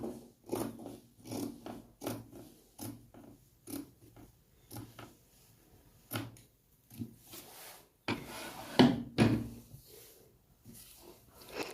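Scissors snip steadily through fabric while cutting the front neck of a box bubu top, a series of quiet, close crunching cuts in an irregular rhythm with brief pauses, ending in a slightly louder burst of handling.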